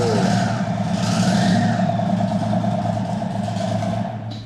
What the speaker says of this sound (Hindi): थ्रॉटल दो, हल्का सा थ्रॉटल।